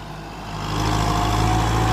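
A new Kubota M6240 tractor with a hydraulic gearbox runs close by, its engine hum steady and low, swelling louder after a moment and then holding even; no one speaks.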